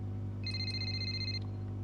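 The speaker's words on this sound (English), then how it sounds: "expect a phone call" A phone rings in the F1 23 racing game's story mode, a steady electronic trill lasting about a second over a constant low hum of background game ambience, with no talk.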